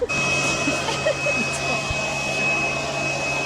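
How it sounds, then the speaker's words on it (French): A weak vacuum cleaner that barely sucks, cleaning near a freshly washed car, a loud steady whine and drone running close throughout, with people talking over it. "l'aspirateur, il est vraiment nul, mais nul"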